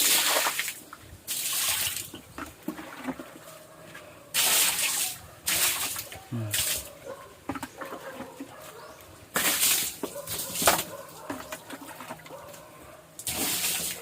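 Water is scooped and poured for bathing in repeated splashing gushes that come in bursts every few seconds. Quieter dripping and handling sounds fill the gaps between pours.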